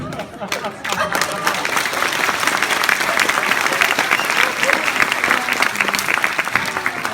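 Dense, loud applause from a Comic Con panel audience, a steady wash of many hands clapping for several seconds after a brief quieter start.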